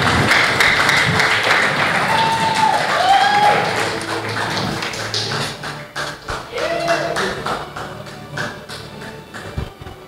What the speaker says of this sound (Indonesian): Boleh berikan tepuk tangan yang meriah para hadirin sekalian.